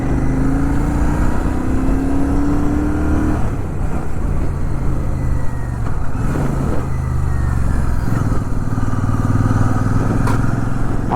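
Royal Enfield Shotgun 650 motorcycle being ridden, a steady loud engine drone and rushing wind running continuously throughout, with the engine note rising and shifting as the bike leans and accelerates.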